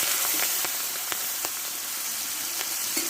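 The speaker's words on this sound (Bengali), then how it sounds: "এই মাছটা একটু ভালো করে ভেজে নেব" Prawns frying in hot white oil with salt and turmeric, a close, continuous sizzle with sharp spitting pops scattered through it.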